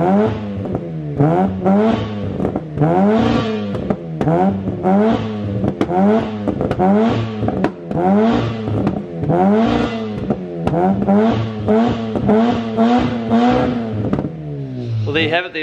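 A warm 13B rotary engine in an E36 car idles with a lumpy, rhythmic pulse, each beat evenly repeated and close by, ending with a brief rise in revs.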